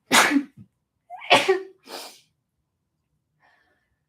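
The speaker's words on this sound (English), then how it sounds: "usually sneeze in threes." A person sneezes close by, a sharp burst followed by a second sneeze and a softer trailing breath, then quiet.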